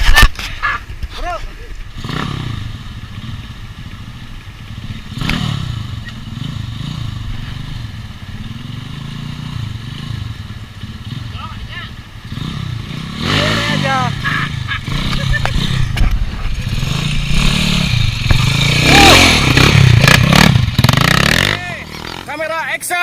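Two motorcycles rev and race nearby with loud, rising engine roars and throttle bursts, heard under frequent excited shouting and talk.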